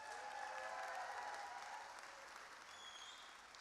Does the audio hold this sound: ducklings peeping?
no